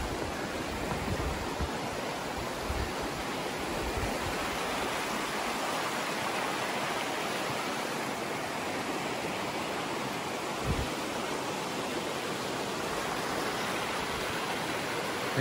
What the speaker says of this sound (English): this river is beautiful, so I'll cross as many as they want to put out.